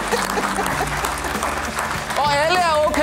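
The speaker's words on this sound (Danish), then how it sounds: "I må godt lige klappe jer selv." A group of people on the Danish TV game show Alle mod 1 applaud themselves, with lively clapping throughout, while voices talk and exclaim over it.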